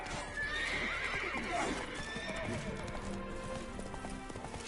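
Roach, Geralt's horse in The Witcher 3, galloping with quick, continuous hoofbeats and a whinny, mixed into a busy, moderately loud game soundscape.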